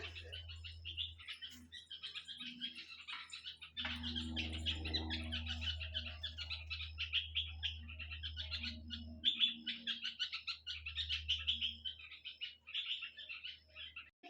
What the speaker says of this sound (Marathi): इथं बाहेर चिमण्या किती कालवा करतात ते बघायच्या का